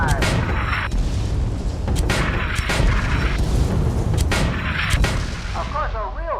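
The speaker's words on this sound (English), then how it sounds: "Get on the mortar and finish the piece of junk off." Heavy booming mortar fire from an airship in Guns of Icarus Online, with repeated loud blasts over a continuous roar of engines and battle noise. Whistling descending tones appear near the end.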